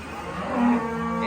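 A calf on a farm lets out one close, loud, drawn-out moo with a low steady tone, heard on its own with no talking.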